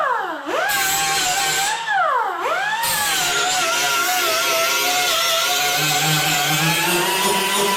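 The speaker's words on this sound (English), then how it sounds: "Now this flat disc, 36 grit, will eat this sheet metal alive." A 36 grit flat grinding disc bites into sheet metal on a 1982 Dodge Ramcharger fender, a loud, close, steady whining grind that rises and dips twice as the tool loads, then settles into a sustained high-pitched roar.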